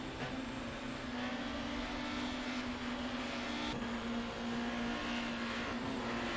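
Touring car engines at Thruxton in GTR 2's 1994 BTCC season, including Peugeots, a steady loud droning whine of engines at high revs with a constant buzzing tone, cars running close together with no break in the noise.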